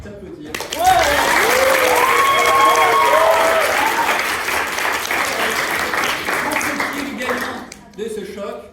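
Sustained applause from an audience at a French university pleading match against La Sorbonne, a full room clapping steadily for several seconds and then fading out, with voices talking over it.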